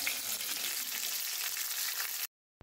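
Pieces of katla fish fry in hot oil, giving a loud, even, continuous sizzle that crackles steadily and then stops abruptly.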